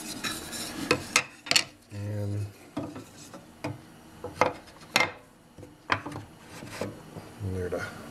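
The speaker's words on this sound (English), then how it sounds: "Fit the bottom in." A cherry wood bottom panel worked into stopped housing dados, giving irregular close wooden knocks, scrapes and taps with short pauses between, fairly loud, alone.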